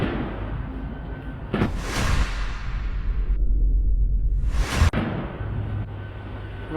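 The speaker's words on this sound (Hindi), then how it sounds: "यह गोला दाग देता है, जिसके बाद जोरदार धमाका होता है" Rocket launcher fired at a Merkava tank: two loud, broadband blasts with roaring tails, the second a sharp explosion followed by lingering rumble.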